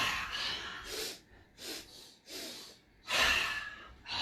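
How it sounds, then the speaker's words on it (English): Forceful yoga lion's breath exhales, loud breathy bursts repeated in a steady rhythm, close to the listener, with quieter inhales between them and no talking. "then a big like lion's breath exhale"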